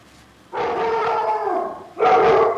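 A dog lets out a long, drawn-out howl followed by a shorter, louder bark-howl, close and clear with no talking.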